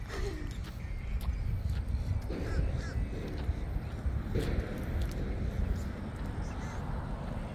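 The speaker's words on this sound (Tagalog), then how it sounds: "klase-klaseng mga uwak" Several crows caw in short bursts, a few calls spaced over several seconds at moderate distance, over a low rumble of outdoor background noise during a walk in Florida.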